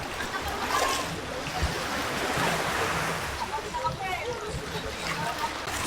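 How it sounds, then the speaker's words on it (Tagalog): Steady wash of surf breaking and rolling on a shore at low tide at a beach resort in Batangas City, Philippines, with wind rushing across the microphone throughout. "Ngayon ang dagat."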